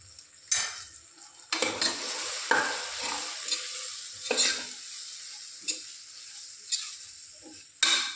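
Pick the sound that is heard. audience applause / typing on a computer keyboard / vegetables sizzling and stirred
vegetables sizzling and stirred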